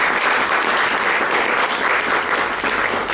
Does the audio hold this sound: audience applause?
yes